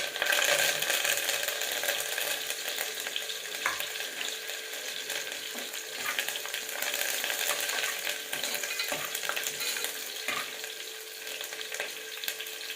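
Curry leaves fry in a pan for a mutton gravy curry, giving a continuous crackling sizzle with scattered scrapes and taps from stirring, close and fairly even throughout.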